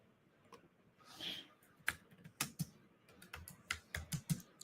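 Keys clatter on a computer keyboard as a sell limit order is typed in for a trade, with brisk irregular clicks growing denser, close and fairly quiet with no talking.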